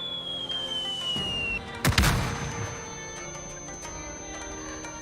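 Paralysis grenade going off in the Rainbow Six Extraction video game: a single loud burst with a crackling tail around the two-second mark over steady game ambience, a descending electronic tone fading just before it.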